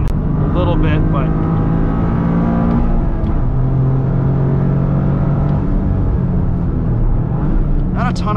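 2023 Toyota GR Corolla engine on a track, droning loudly and steadily as the car shifts up into fourth gear, the pitch settling lower after the change, with someone talking over it.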